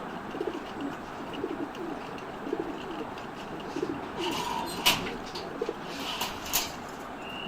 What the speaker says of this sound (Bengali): রেসার হোমা কবুতর